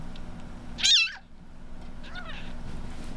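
A bottle-fed kitten gives one loud, high meow close by, then a fainter second cry, over a steady background hum.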